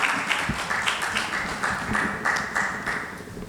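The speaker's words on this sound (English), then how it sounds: "Please give a huge round of applause and welcome him for his address." An audience at an inaugural session gives a speaker a welcoming round of applause, a short burst of scattered and fairly thin clapping in a hall, moderately loud.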